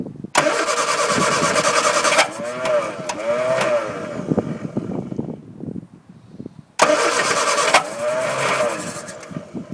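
A Hillman Avenger engine, started for the first time in 24 years, cranks and catches in two loud, close attempts. Rough uneven running and sputtering fill the gap between them.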